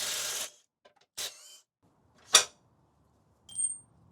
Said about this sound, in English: This new Milwaukee ratchet is pretty darn powerful.